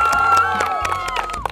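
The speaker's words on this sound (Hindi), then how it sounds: "एक बार तालियां हो जाए भाई" A lively crowd claps and cheers steadily at a balloon-popping prize game, with a voice calling out over the din throughout.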